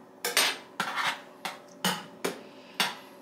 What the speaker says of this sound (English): So let me stir this.